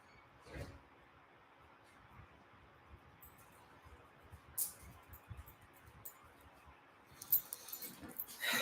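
A dog is let out of the house, with faint jingling and shuffling, a soft door sound and a sudden louder clatter near the end, all quiet and close.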